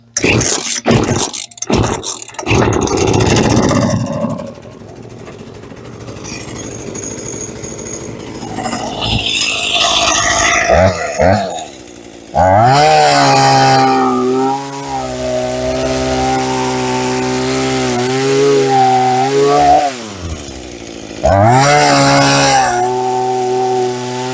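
A trash-picked Hitachi chainsaw runs loud and close, its small two-stroke engine revving up and down in repeated bursts and settling between them, with brief gaps where the engine drops off.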